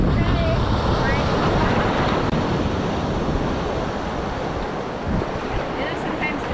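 Ocean waves at a shark-noted beach, a continuous broadband wash of surf mixed with heavy wind buffeting on the microphone, loud and close throughout.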